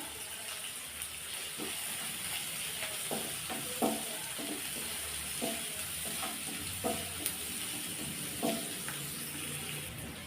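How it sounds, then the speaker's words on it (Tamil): Onions with a sprig of curry leaves sautéing in a pan for Indian brinjal curry, a steady soft sizzle throughout with occasional stirring scrapes and clicks, no talking. "வெங்காயம் வந்து நல்லா கண்ணாடி பதத்து வர அளவுக்கு நல்லா வதக்கி விட்டுக்கோங்க"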